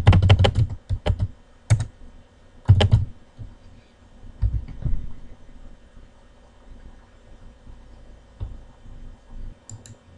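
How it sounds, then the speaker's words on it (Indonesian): Bursts of rapid keystrokes on a computer keyboard while entering data into a Google Sheets petty cash table, loud clustered clicking with pauses between runs, close and alone. "Nah, ini udah selesai diketik."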